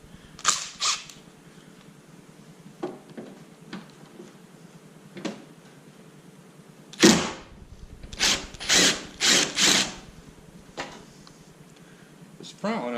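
A power driver backing out T27 Torx screws from a Ford Bronco door mirror: short whirring bursts, a few early and a quick cluster of four or five later, with some talk between them.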